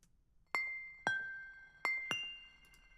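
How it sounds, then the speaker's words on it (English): Four bright glass pings ring out one by one in an irregular rhythm, each sharp strike leaving a clear sustained tone that fades slowly, close and isolated over a quiet low background, part of the music for the short film Noise & Neighbours. "The next sound that I want to talk about are these glass pings."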